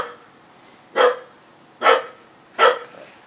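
A puppy barks three times inside a garage, evenly spaced sharp barks about a second apart, fairly close and loud over a quiet background with no talking.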